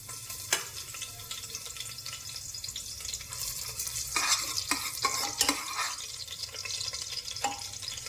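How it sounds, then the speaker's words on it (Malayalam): Crushed ginger and garlic frying in hot coconut oil for a kadala kuruma, a steady close sizzle broken by sharp stirring scrapes and clinks of a spoon against the pan, no voices. "ഇനി ഇഞ്ചി വെളുത്തുള്ളി ചതച്ചത് ആദ്യം ഇടാം."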